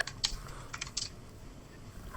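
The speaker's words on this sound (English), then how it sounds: "Typing?" Quiet typing on a computer keyboard, a few scattered key clicks over a low background hum.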